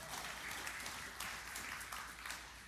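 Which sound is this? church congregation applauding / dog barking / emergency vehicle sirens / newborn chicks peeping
church congregation applauding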